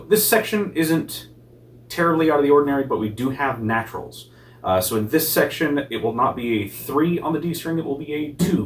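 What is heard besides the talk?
No everyday noise stands out behind the speech.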